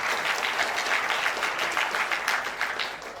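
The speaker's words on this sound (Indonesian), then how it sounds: "tepuk tangan kita semuanya" An audience at a vocational school graduation send-off event claps together in a full, sustained round of applause, fairly loud and steady, easing off slightly toward the end, with no talking over it.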